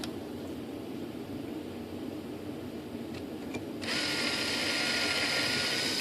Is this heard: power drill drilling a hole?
yes